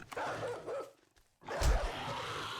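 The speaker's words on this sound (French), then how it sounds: "Oh, non, pas un chien." A dog barks in the survival video game 7 Days to Die. Two short bursts of barking are split by a brief near-silent gap, with the second burst louder and closer.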